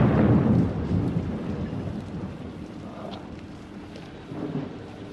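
Heavy pouring rain at Blackpool, a dense broadband wash that starts loudest with a rumbling swell, then settles into a steady hiss with a slight rise near the end.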